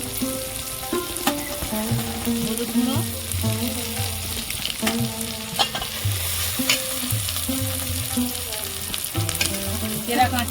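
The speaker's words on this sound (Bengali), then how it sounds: "মশলা ভেজে নিয়েছি" A spice paste of ginger paste, Kashmiri chilli powder, cumin and coriander powder fries for a vegetarian soybean dish. Busy, close stirring and scraping sit over a constant sizzle, with faint musical tones in the background.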